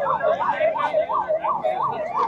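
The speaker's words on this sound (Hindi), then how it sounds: "लेकिन एम्बुलेंस आ चुकी है।" An ambulance siren arrives at a hunger-strike protest site, its loud wailing tone rising and falling in quick regular cycles throughout, with voices and crowd noise underneath.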